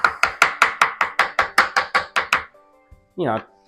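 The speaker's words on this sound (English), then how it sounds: "we got to chop up a little bit of cilantro" A knife chops cilantro on a cutting board: about a dozen crisp, evenly spaced chops in quick rhythm, close and clear, followed by a short pause and a brief voiced sound.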